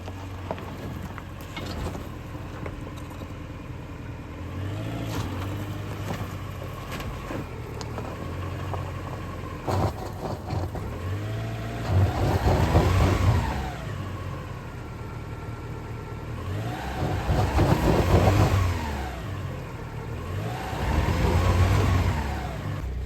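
An off-road car engine climbing a hill after warming up in a desert wash on a cold morning, heard up close as a steady drone that swells into three loud revving surges.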